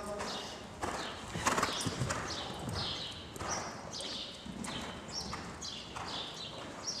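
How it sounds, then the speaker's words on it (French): A horse gallops during a riding lesson, its hoofbeats landing in a steady, close, rhythmic three-beat pattern on soft ground with a faint snort now and then. "garde le galop, garde le galop"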